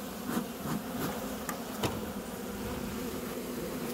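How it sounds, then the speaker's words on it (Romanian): Agitated honeybees buzz steadily inside a hive that a mouse has got into, a dense continuous drone with a few sharper passes of single bees close by, moderately loud and with no talking. "Am agitat albinele."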